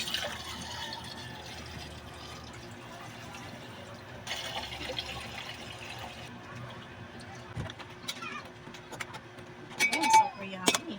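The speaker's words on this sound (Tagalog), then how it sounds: "Pwede na natin siyang lagyan ng lagyan na natin siya ng tamang saktong tubig" Water is poured into a cooking pot for chicken tinola, with short bursts of splashing and filling, a few clinks and louder clatter near the end, over a quiet kitchen background.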